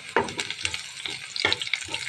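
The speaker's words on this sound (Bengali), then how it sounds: "পেঁয়াজটা আমি বাদামি কালার করে ভেজে নেব।" Onions fry in a pan for a Bengali palm-seed kernel morabba, with sharp crackling sizzles and stirring scrapes coming in uneven bursts at close range.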